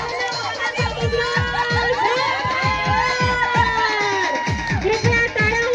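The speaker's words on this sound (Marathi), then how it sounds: "प्रत्यक्ष जोरदार टाळ्यांनी स्वागत करूया" Audience at a housing society event cheering and clapping to welcome a couple onto the stage, a loud lively crowd with shouts and whoops, close and continuous with voices mixed in.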